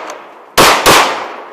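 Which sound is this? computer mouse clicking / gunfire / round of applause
gunfire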